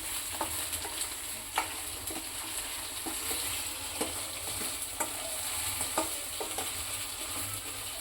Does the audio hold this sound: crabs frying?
yes